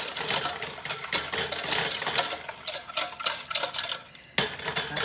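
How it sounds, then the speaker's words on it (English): A whisk beating custard in a pot for banana pudding, quick rhythmic metallic scraping and ticking against the pot, steady and close with a short pause near the end. "Whisk that in."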